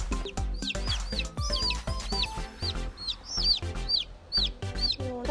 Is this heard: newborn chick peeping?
yes